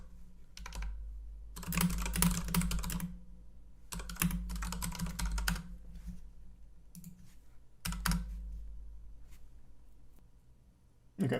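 Typing on a computer keyboard in a quiet room, several bursts of rapid key clicks separated by pauses, close and fairly soft.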